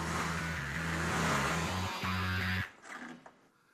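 A car engine revs hard in stepped surges as a slipping clutch smokes, loud and close for over two seconds before cutting off abruptly into fainter mechanical noise.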